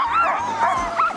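A loose sled dog yips and whimpers close by in a quick series of high, wavering cries over a brief stretch, with no talk.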